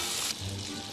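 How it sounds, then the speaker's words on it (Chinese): Shrimp sizzle in plenty of hot oil in a wok, a dense, steady hissing crackle that stays loud for the whole brief moment with no talk. "然后咱们现在可以倒点虾。 炸虾。"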